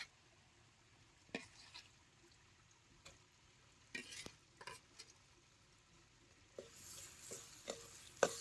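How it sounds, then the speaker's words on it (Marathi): Ground masala frying in oil for a spicy crab curry, stirred with a spoon in a pan: faint, soft sizzle broken by several sharp scraping stirs, with a louder hiss near the end. "सौदा बी तेलात चांगला भाजून घ्यायचा."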